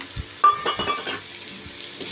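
Potatoes and onions fry in a pan for a small fish curry, a close sizzle broken up by a few soft scraping stirs and light clinks of a utensil against the pan, with no talk.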